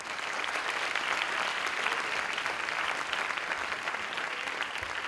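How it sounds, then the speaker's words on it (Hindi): Steady applause from a large audience of children and adults at an evening event, a dense even wash of clapping that holds at a constant level throughout without any voices. "ताली मारो"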